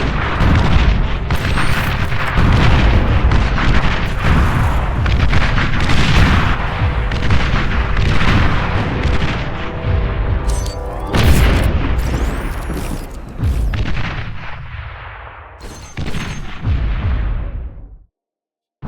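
T1 artillery units in the Beyond All Reason strategy game fire a dense, continuous barrage of booms and blasts, loud and layered throughout, with overlapping explosions that thin out near the end before cutting to silence.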